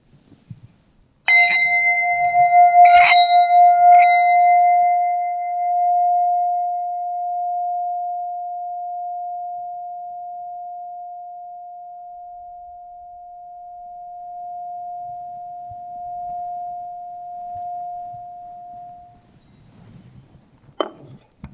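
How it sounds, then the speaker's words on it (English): A singing bowl from New Delhi is struck a few times, then rings as a single pure, sustained tone that slowly fades over many seconds into near silence. Faint rustling follows. "I'm going to make the bowl sing, and your job is to listen to the sound for as long as possible until it dies."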